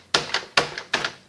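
Three quick, close mechanical thunks come from the spacebar of a Robotron 1986 electronic typewriter during a teardown, each press giving a sharp clack with a softer rebound.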